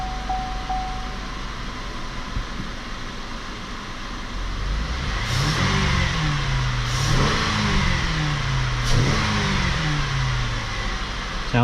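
A 2016 Buick Lacrosse 3.6-liter engine cranks over and fires, then revs up three times with rising and falling engine tone, close by and fairly loud over a steady idle.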